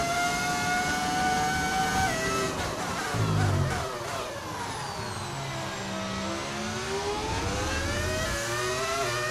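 A V10 engine audio mod in the F1 25 racing game: a loud, continuous high-pitched scream that climbs through the revs, dips on gear changes and pulls back up, with no pauses.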